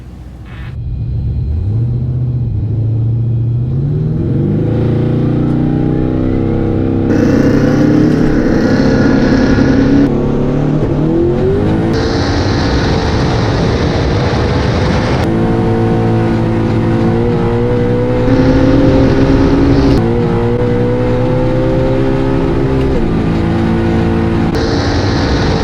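A 2,000+ horsepower LSX-swapped Cadillac Escalade roll racing on an F1 track roars loudly and continuously, climbing through the gears with rising pitch and revving up to the limiter over a deep rumble.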